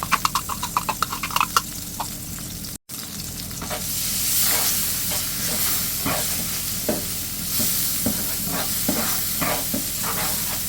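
Garlic sizzles and crackles in a hot frying pan, a steady dense fry with occasional stirring clinks and scrapes, close and loud with no talking.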